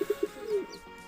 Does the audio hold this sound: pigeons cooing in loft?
yes